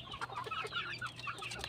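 Rhode Island-mother chickens crossed with an Asil or giant rooster cluck in quick, overlapping bursts at close range, forming a busy farmyard chatter with no talk.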